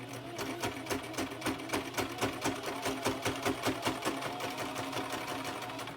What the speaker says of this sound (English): I like to sew going down the pleats instead of up.